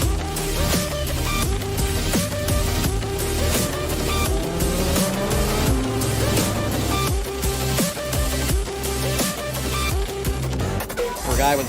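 A legend race car at speed on the Bristol Motor Speedway oval, its engine roaring loud and continuous with rising and falling revs and rapid gear changes, accompanied by occasional tire noise through the corners.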